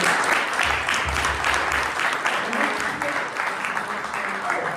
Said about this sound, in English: let's just give another round of applause to our double feature presenters, Patrick and Johnny.